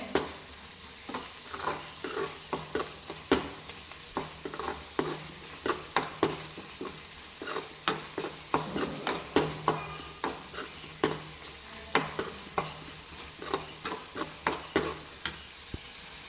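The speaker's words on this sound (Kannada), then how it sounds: "ನೋಡಿ ಚಂದ ಇದರಲ್ಲಿ ಫ್ರೈ ಆಗ್ತಾ ಇದೆ, ಇದರಲ್ಲಿ ಒಟ್ಟಿಗೆ ಎಲ್ಲ ಮಸಾಲೆ ಒಟ್ಟಾಗಿದೆ." Spices crackling in hot oil for rasam with steady sizzling and repeated scrapes and clinks of a spoon stirring the pan, close and fairly loud throughout.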